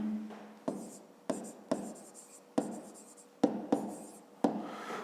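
A pen writing math on paper: a series of close, scratchy strokes in short bursts, each starting with a sharper tap, about eight strokes over a few seconds, alone without talk.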